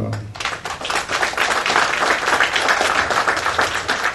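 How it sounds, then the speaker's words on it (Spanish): Sustained applause from an audience at an international scientific conference, a dense wash of clapping that stays steady and fairly loud for several seconds. "le recibimos con un fuerte aplauso"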